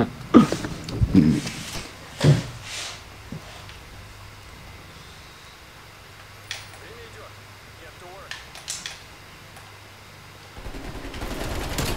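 Gunfire in the first-person shooter Gunfight: a few sharp shots cluster early, then sporadic single cracks over a quieter stretch, with people talking at times.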